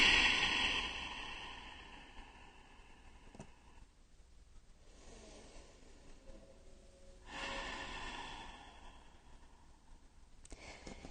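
Deep breaths during a yoga stretch: a long audible exhale with airy rushes of breath and quieter gaps between them, soft and close, with no speech.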